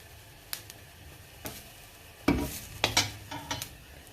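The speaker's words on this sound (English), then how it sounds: "It has to fry well before you can add the tomato and the the tamarind." Spices frying in oil for rasam, with a few sharp clatters of stirring spaced through a low, steady sizzle; close and fairly quiet, no talk.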